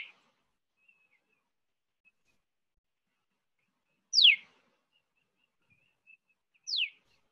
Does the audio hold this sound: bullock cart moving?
no